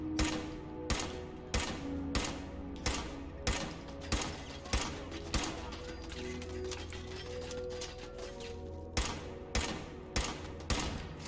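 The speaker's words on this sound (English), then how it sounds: "there's some machine gun turret" A machine gun turret in Fallout 4 firing repeated rapid bursts of sharp shots, a steady rhythmic volley that briefly pauses midway before resuming, loud and alone with no talk.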